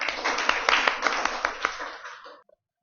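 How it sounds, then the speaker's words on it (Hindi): School children clap together, a short burst of distinct hand claps at moderate volume that trails off and stops abruptly after a couple of seconds, leaving silence. "तालियां"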